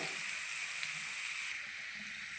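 Ginger and garlic hit a hot pan and hiss steadily, a bright, even sizzle that stays loud and close for the whole stretch with no voices over it.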